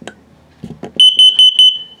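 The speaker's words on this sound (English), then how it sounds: "This is also a low battery alarm, so if it beeps in the same tone as the carbon dioxide or LP gas" An RV carbon dioxide and LP gas detector in a 2022 Flagstaff MAC 206LTD camper sounds during a test: a few soft knocks, then a rapid run of about six loud, piercing beeps close by, ending in a brief held tone.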